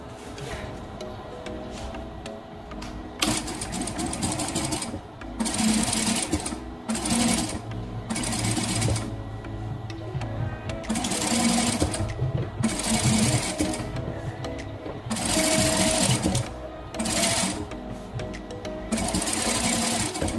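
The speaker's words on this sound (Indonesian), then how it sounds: "Kemudian kita jahit melingkar" A sewing machine stitches horsehair braid in a circle around the hem of a skirt, running in loud rapid bursts of mechanical clatter with short pauses between runs, close and with no talk.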